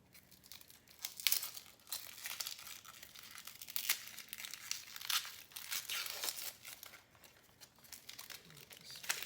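Papery outer skin is peeled from an onion, close, soft crinkling and crackling with small tearing snaps at an uneven rhythm, fairly quiet and with no voice.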